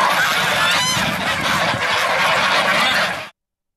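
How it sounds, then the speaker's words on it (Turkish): About 300 geese honking as they enter water to cool off, a dense continuous chorus of overlapping calls from a large flock, fairly loud and steady before cutting off abruptly. "Yaklaşık 300 adet kazın aynı anda suya girerek serinlemeye çalışması ise ilginç görüntüler"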